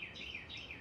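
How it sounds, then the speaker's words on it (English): A bird chirps loudly outdoors in South Carolina, giving a quick series of thin, repeated high chirps that rise and fall against faint background noise. "he's pretty loud if he's that bird. He's talking, he's chirping away."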